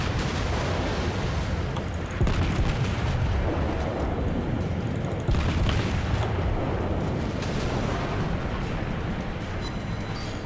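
Naval guns firing in the warship game World of Warships, heavy booming blasts layered over a constant roaring rumble of battle, loud and dense with shells landing in quick succession, no voices.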